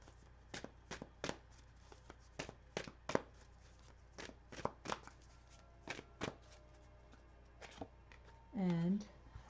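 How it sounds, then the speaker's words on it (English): Tarot-style cards are shuffled by hand in a run of crisp snapping riffles and slaps, close and sparse, with a brief voice near the end. "So I'm going to pull a card here from the universe that's got your back."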